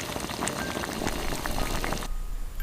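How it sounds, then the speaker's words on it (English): Water boiling hard in a large pot over a fireplace, a steady dense bubbling and hissing that fills the whole stretch and softens slightly near the end, with no voices. "in the fireplace, in the large pot, water was boiling hot."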